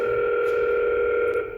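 An IP door intercom places a call, giving a steady, loud electronic ringing tone that holds unbroken before tapering off.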